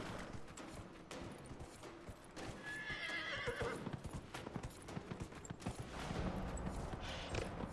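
Horse hooves clip-clop at a gallop with neighs and whinnies in Dragon Age: Inquisition, game sounds and music running steadily throughout, with bursts of gunfire-like effects.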